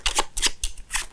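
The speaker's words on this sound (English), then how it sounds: "Pick up the first group before we give it a shuffle." A small packet of playing cards being shuffled by hand in a close-up magic tutorial, four quick riffling bursts in a steady rhythm, loud and close.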